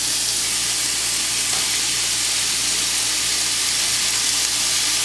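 Taco filling fries in a pan, a steady dense sizzle with continuous hiss that stays even and fairly loud throughout, with no talk over it.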